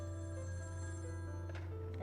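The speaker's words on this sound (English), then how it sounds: "Or the rotary phone." A rotary telephone rings in the Gabriel Knight 2 video game, a steady electronic bell tone lasting a couple of seconds over a constant low hum.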